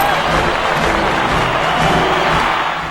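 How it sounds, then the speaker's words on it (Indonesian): A large stadium crowd roars and applauds in a dense, continuous wash of cheering and clapping, steady and loud throughout a film scene. "disambut dengan sorak-sorai banyak penduduk Amerika yang datang di stadion itu"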